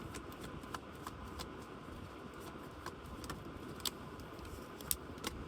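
A deck of tarot cards being shuffled, a soft continuous riffling and sliding with occasional faint clicks, quiet and close, with no voices.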